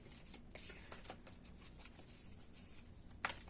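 Tarot cards being shuffled by hand, with soft papery riffles and slides in short bursts and a sharper flurry near the end, close and quiet.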